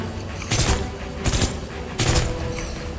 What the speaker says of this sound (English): Good thing this gun's pretty much insta kill.